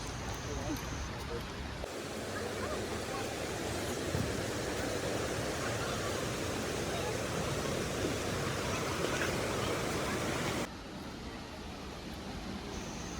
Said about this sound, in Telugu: ఫైనల్గా మనమైతే అతిరేపల్లి వాటర్ ఫాల్స్ దగ్గరికి అయితే వచ్చేసాం.